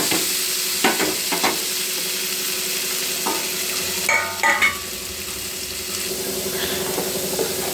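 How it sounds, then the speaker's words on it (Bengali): Potatoes frying in a pan, just after eggs were fried, give a steady close sizzle with several sharp spatula scrapes and clatters, the busiest burst about halfway through, and no talking. "এখন আলুটাকে ভাজি করে নিচ্ছি।"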